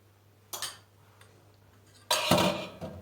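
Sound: spreading batter in a frying pan

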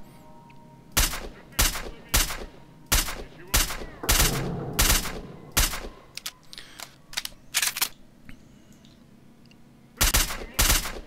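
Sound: shotgun gunfire in video game S.T.A.L.K.E.R. Shadow of Chernobyl

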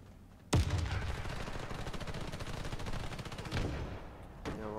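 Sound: gunfire in the video game Warface

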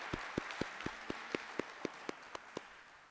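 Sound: audience applause for a councilman

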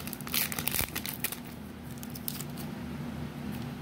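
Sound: opening a Pokémon Burning Shadows booster pack wrapper

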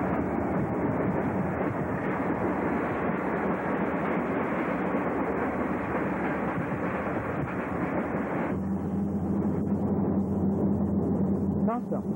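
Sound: CP train with three CP engines passing

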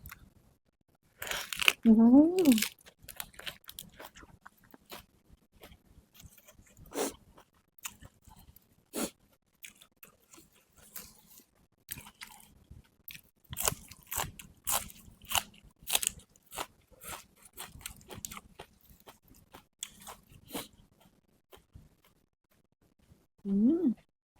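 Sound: eating a big mouthful of som tam with rice noodles and shrimp

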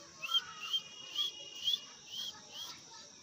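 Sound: whistle to call pigeon chicks

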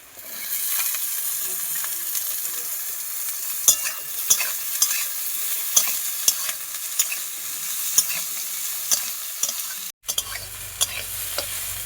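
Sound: eggplant and potato frying in pan

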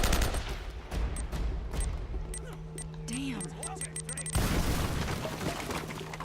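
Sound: sniper rifle shots in video game Uncharted: Drake's Fortune

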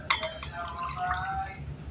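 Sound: pouring water for chutney

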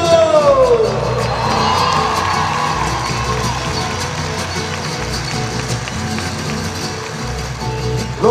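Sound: audience applause and cheering for the accordionist

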